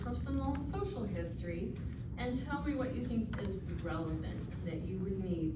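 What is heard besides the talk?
None of the usual background noises is heard.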